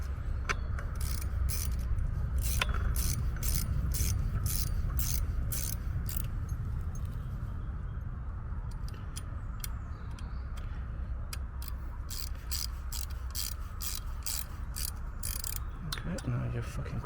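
A wrench cranks on a stubborn, cross-threading bolt during a repair job. Close, fast ratchet clicks repeat steadily for the whole stretch over a constant low background hum.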